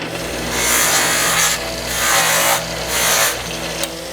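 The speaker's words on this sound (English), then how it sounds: "I'm going to do a final step to it, which is use this buffing wheel here" A buffing wheel with coarse polish works a Timascus ring, a steady motor hum under a rhythmic hissing rub that swells and fades four times as the ring is pressed against the wheel.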